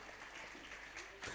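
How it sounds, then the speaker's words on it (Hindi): Brief applause from a gathering at a Jain religious discourse, a faint burst of clapping mixed with a voice speaking. "तालियां बजाकर अनुमोदना।"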